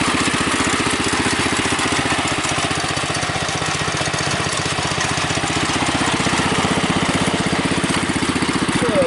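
A Bolens Husky 600 garden tractor engine runs steadily a little above idle, loud and close, with an even rapid thumping pulse and a slight rattle throughout, no voices.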